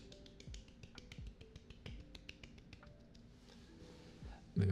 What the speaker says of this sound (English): Golf claps, golf claps.